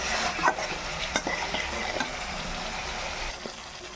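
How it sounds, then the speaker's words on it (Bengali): Spices with turmeric and salt frying in hot oil while being stirred for a fish masala, a steady close sizzle with a few sharp scraping clinks of the spoon against the pan. "এখন এটাকে আস্তে আস্তে জাল দিয়ে আমি ভালো করে ভাজি করব।"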